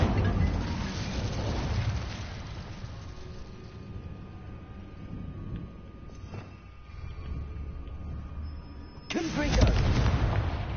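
Hogwarts Legacy's Incendio fire spell: a deep, rumbling whoosh of flame with low booming bursts, a quieter stretch in the middle, then a sudden loud blast near the end.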